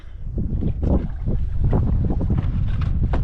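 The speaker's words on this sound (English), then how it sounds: "the wind is blowing like oh, that's a lot of work" Wind gusts across a river in the Little Yampa Canyon as a heavily loaded canoe is paddled, a steady, close broadband rush of wind buffeting the microphone with no speech.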